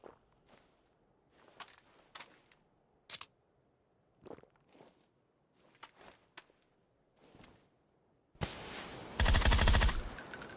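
Submachine gun fire in a video game, sparse quiet footsteps and clicks giving way to a loud, sustained burst of rapid automatic shots near the end.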